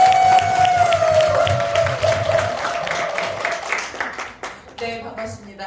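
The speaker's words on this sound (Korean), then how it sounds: "네, 우리 큰 박수로 모실게요." Audience applause welcomes a speaker at a gathering in Yangpyeong, a steady patter of clapping under a sustained musical tone that thins out toward the end.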